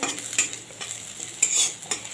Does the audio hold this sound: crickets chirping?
no